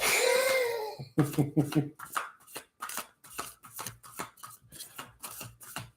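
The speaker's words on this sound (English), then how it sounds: "I did shuffle these cards." Oracle cards shuffled by hand in a quick run of rapid, crisp riffling taps close by, after a brief stretch of someone speaking.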